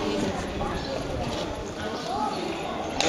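Horse trotting during a riding session on an outdoor surface, muffled rhythmic hoof clip-clops moving steadily under a noisy background, with a person talking and urging the horse on.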